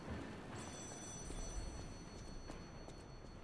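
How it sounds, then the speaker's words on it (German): A telephone rings inside the video game Lies of P, set against a steady bed of game ambience, its repeated ring pulses thin and moderately quiet rather than close and loud. "Telefon."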